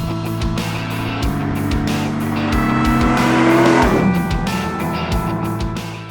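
A Windsor small-block V8 car revs toward 6,000 to 6,600 rpm and pulls hard, a loud, close, steadily climbing engine roar with rhythmic gear-like pulses and a peak before easing off.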